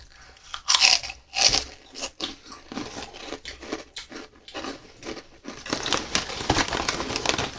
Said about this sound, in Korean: 이렇게 먹어보겠습니다. 두 개 두 개씩.